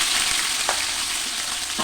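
Green chillies, crushed ginger and garlic fry in a pan with a steady, close sizzle and a few soft stirring scrapes, with no voices.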